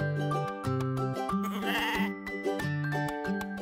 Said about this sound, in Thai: แม่แพะกับลูกแพะ